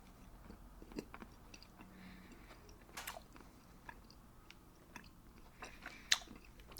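Soft, close chewing of chewy lime-flavored candy, with scattered wet bites and smacks and a few sharper crunchy clicks over near silence in a quiet whispered setting.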